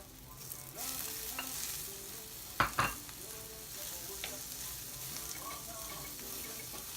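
Onion and shrimp fry in a pan with a soft, continuous sizzle. A couple of brief utensil clatters sound near the middle, and faint stirring runs throughout.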